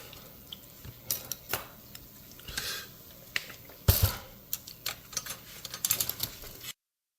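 Type bars being refitted on an Oliver 5 typewriter: scattered light metallic clicks and taps, with a few sharper clacks and brief scraping rattles, close and irregular, with no voice.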